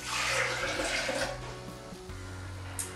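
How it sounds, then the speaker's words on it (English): Two cups of water pour into a blender for a green smoothie, a steady splashing rush that fades toward a quieter trickle, close by and with no talking. "first I'm going to start off with a couple cups of water, 2 cups of water."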